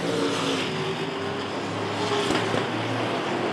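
Race cars roar around Rockford Speedway during a bracket feature, a steady loud engine drone with a pack sweeping past near the end, continuous and without talk.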